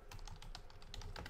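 Rapid typing on a computer keyboard, steady clicking keystrokes close by in an indoor room with no voices.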